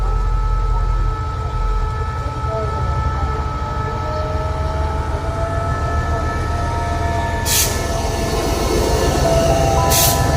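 Passenger train on the Chiang Mai to Bangkok service departing Ayutthaya station, a loud, steady rumble of wheels and engine with two short sharp bursts near the end.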